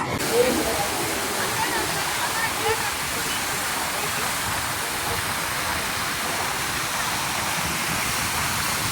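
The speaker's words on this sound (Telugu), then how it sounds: "అయితే చాలా అంటే చాలా బీభత్సంగా పారుతా ఉన్నాయి" A loud, constant roar of floodwater rushing over Vakadu barrage, dense and unbroken throughout, close by and drowning out other sounds.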